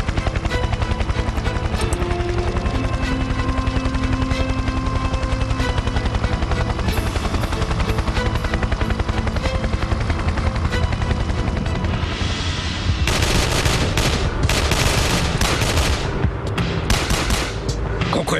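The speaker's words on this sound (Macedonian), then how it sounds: "Колку е брз хеликоптерот?" A helicopter roars close and loud throughout, its dense rotor and engine drone steady, then turning harsher with sharp bursts like gunfire in the last few seconds of a tense ambush scene.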